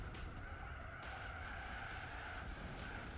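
A car in Gran Turismo 4 oversteering at the Corvette festival, its engine droning steadily while the tires squeal and skid continuously, fairly faint and even throughout.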